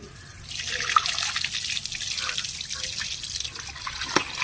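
Tap water runs steadily into a sink while mutton is washed for an Ambur-style home biryani, a continuous close splashing hiss with a few louder drips and knocks near the end, with no talk over it.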